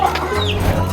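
Fighter roosters squabble close by with a brief run of throaty clucks over a low, steady background hum.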